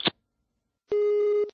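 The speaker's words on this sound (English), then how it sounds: "Hang up the phone, dial that number, and see if this phone ring" A telephone handset tone sounds after a brief click: one steady, loud electronic tone held for about half a second, then cut off, with no talk over it.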